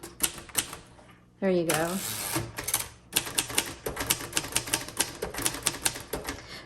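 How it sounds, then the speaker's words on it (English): Typing on a 1953 Royal Quiet Deluxe manual typewriter: sharp, close keystrokes clatter in a rapid irregular run, broken by a sliding carriage-return zing and a brief pause, and a voice speaks briefly. "I'm going to have to hit the margin release."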